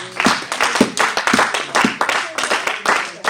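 Rhythmic hand clapping in a church service as a congregant acclaims the word of God, a steady series of sharp claps at a brisk beat, fairly close and loud, with worship voices faintly underneath.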